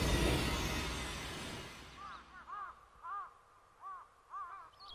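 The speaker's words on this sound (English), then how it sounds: "you can hear crow sounds in the distance here" Distant crows caw in a loose series of short calls, faint against a fading wash of noise at the start.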